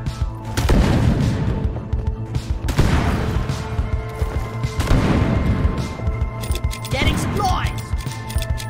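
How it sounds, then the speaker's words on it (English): Repeated booming blasts from grenades in the sci-fi mining game Deep Rock Galactic, several heavy explosions in a row with crashing debris and rumbling tails. Game voices and effects run under the loud blasts. "Grenade!"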